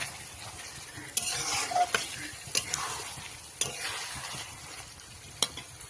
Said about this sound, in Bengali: মাংস রান্না দিয়েছি কড়াইতে, দেখো।